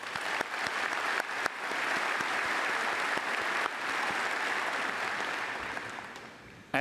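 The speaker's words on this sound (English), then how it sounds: "Let's give us a round of applause." A commencement audience at Auburn University breaks into a sustained round of applause, dense steady clapping filling the hall from start to finish with a few sharper claps standing out.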